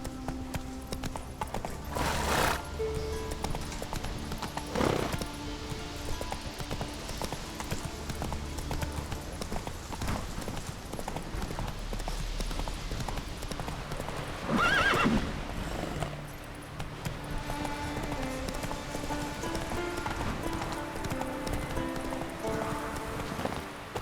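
Roach the horse in The Witcher III galloping, with steady clip-clop hoofbeats throughout and a couple of sharp neighs standing out, game music and ambience underneath.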